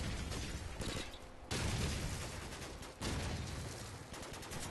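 Dense, loud gunfire in Call of Duty 4 rattles almost without pause, with rapid bursts and short breaks between volleys.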